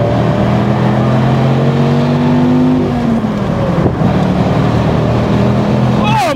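A Dodge Viper SRT-10 accelerates hard with a loud, close engine roar that climbs in pitch through gear changes, then drops and rises again.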